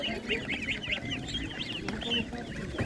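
Legart geese at a livestock market give repeated nasal honks and clucking calls, fairly close, over a steady murmur of market background noise.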